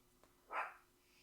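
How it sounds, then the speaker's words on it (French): A single short bark from Potsy, a playful dog wanting attention, heard faintly in a quiet room, one brief yelp with nothing else around it. "j'ai Potsy qui aboie"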